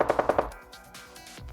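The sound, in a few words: automatic gunfire sound effect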